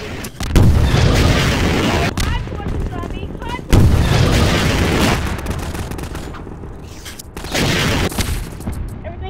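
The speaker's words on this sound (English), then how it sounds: "somebody's got rocket launchers" Rocket launcher explosions in the video game Garry's Mod, three loud booming blasts a few seconds apart, each followed by a rumbling decay, with faint voices underneath.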